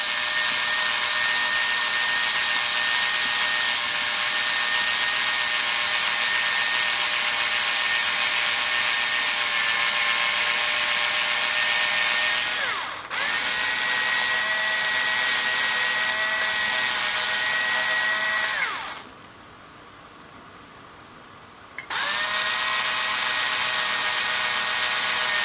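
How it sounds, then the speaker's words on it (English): A high-pitched power drill whines loudly for long stretches while drilling out holes during an upgrade of a Fayee FY004A RC helicopter. It stops briefly twice, winds down to near quiet once, then spins back up, with no talking. "You need to drill out these holes."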